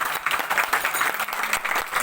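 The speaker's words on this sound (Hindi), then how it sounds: "के लिए जोर से ताली बजाइए आप लोग।" An audience at a Sunderkand recitation in a management college courtyard claps for the devotees, a loud, close burst of many hands clapping steadily throughout with no talk.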